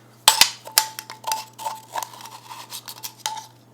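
A metal spoon clinks and scrapes against a container while scooping baking powder for chocolate chunk cookie dough, giving a quick series of close, light taps and scrapes with no talking.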